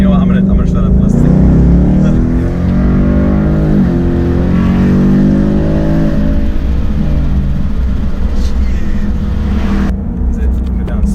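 A 2019 Ford Mustang GT with the 5.0 liter V8 and 10-speed automatic drones loudly and steadily from inside the car, its revs rising and falling through gear changes across the whole stretch.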